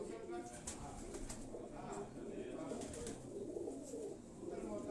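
Aseel high-flying pigeons coo softly in the background, a low rolling murmur repeated under faint nearby talk.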